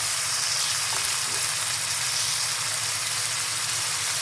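Finely chopped tomatoes fry with onions in a hot pan, giving a close, steady, bright sizzle that runs without a break and with no voices.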